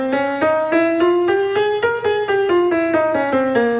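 A blues scale with added second and sixth notes is played as a quick run of clear, evenly spaced single notes. They rise and then fall in steady rhythm, close and bright, with no talking.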